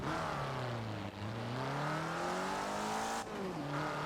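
A steady retro car engine in Forza Horizon 4 drones at a constant high rev, its pitch drifting slightly up and down, loud and continuous, with a brief dip near the end.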